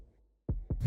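Two soft, deep drum thumps in a producer's track mimic a heartbeat in a close double-beat pulse, followed by a swelling low tone.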